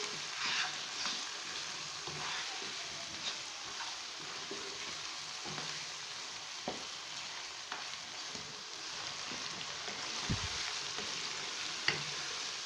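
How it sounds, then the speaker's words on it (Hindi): Chicken karahi with spices sizzles steadily in the pan while a utensil stirs it, sending out scattered scrapes and clinks over the continuous frying hiss, including one low knock and a sharp clink, with no speech. "स्पाइसेस डाल के हम इनको भी अच्छी तरह से मिक्स कर लेंगे।"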